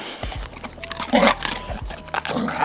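A dog crunches a hard treat up close, with a few sharp bites followed by softer chewing, and a voice speaks faintly in the background.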